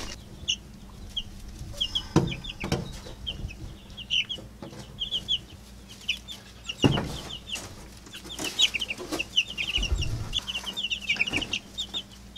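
Meat chickens in a brooder clucking and peeping steadily, with a few louder close calls and bumps among a constant chatter of chirps, no talk.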